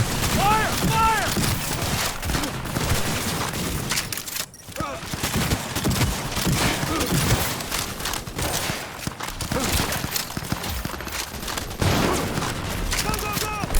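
Dense, continuous gunfire from the video game Cyberpunk 2077, with bursts and rapid shots layered over a busy combat soundscape and shouting voices throughout.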